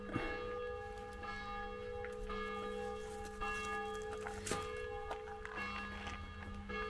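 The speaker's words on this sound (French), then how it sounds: "Au son des cloches de l'église." Church bells ring steadily at a moderate distance, their tones overlapping and sustained in a continuous peal with no talking.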